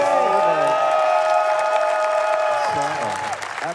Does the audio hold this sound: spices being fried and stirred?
no